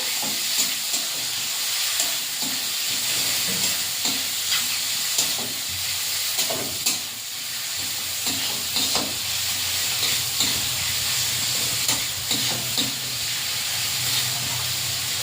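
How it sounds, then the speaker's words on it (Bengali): Prawns and onion fry in hot oil with panch phoron, a continuous hissing sizzle broken by regular scrapes and knocks of a spatula stirring the pan. "চিংড়ি মাছ পেঁয়াজটা এইভাবে ভাজা ভাজা করে নিয়েছি"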